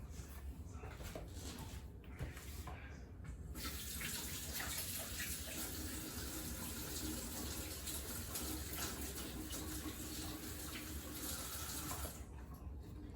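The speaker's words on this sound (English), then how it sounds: "Let me wash my spoon." Tap water runs steadily into a sink as a spoon is rinsed beneath it while making ghee, with faint clinks; the flow stops near the end.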